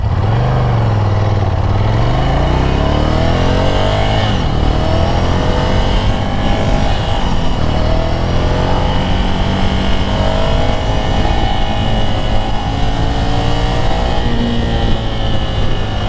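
A Ducati Scrambler 800 Café Racer motorcycle rides through city streets, its engine droning loud and close with rising and falling pitch as it revs and shifts, steady throughout with no voices.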